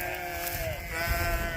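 Sheep bleat on a farm in a wavering, drawn-out cry that rises and bends, followed by a second overlapping call, fairly close over a low outdoor background.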